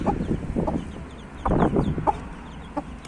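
A mother hen with newly hatched chicks gives a series of soft, irregular clucks close by, with faint high chick peeps scattered in the background.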